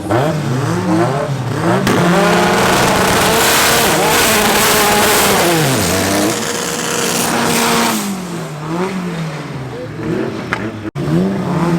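A Honda race car at Midvaal Raceway roars past, its engine revving up and down through gear changes, loud and close at first, then fading and swelling again, with a sharp break near the end.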